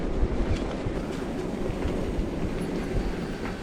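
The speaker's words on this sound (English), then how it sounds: "Is that a train, a railway bridge," Steady low rumble of a train rolling across a railway bridge, with faint rhythmic clatter of wheels, continuous and moderately loud.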